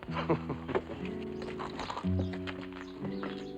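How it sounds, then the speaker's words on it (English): Horses clip-clop at a walk on a frontier town street outside a livery stable, hoof beats steady and fairly close beneath a sustained musical score. "take the horses around the livery stable"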